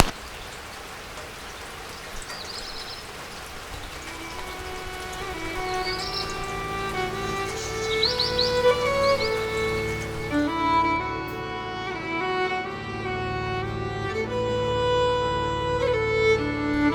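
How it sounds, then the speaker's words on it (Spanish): Rain falls steadily along the Camino in rural Galicia during winter, a soft, continuous patter with a few bird chirps early on and sustained ringing tones joining partway through. "Llueve como el día que más, ¿eh?"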